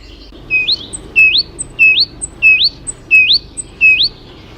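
A cartoon bird in Bob the Builder repeats a sharp, rising chirp about seven times in a steady rhythm, close and clear against a quiet background.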